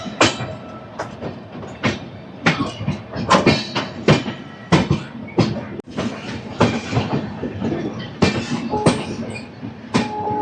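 The Howrah–New Delhi Duronto Express, hauled by a diesel locomotive, rolls along with loud, close clickety-clack from the wheels over rail joints. The rhythmic clatter runs steadily throughout, with the rumble of the carriages underneath.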